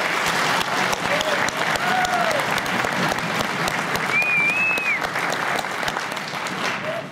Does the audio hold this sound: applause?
yes